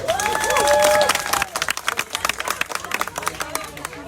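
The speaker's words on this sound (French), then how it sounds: "s'il vous plaît, un gros applaudissement pour la maman d'Ariana" Audience applause and clapping for Ariana's mother at a crowded event in Pétion-Ville, Port-au-Prince. The claps are dense and sustained, starting under loud cheering before settling into a steady patter.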